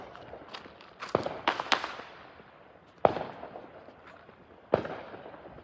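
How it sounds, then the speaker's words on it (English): Distant backyard fireworks on the Fourth of July, a handful of sharp pops and cracks with fading tails, irregularly spaced over a quiet background. "Just want some distant fireworks while you wait."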